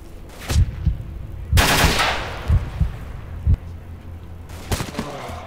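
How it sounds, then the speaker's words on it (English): Sniper gunfire in the STALKER video game: several sharp, loud shots spaced a second or two apart, with one long crack rolling into echoing decay, over a low rumbling game background. "Whoa, sniper!"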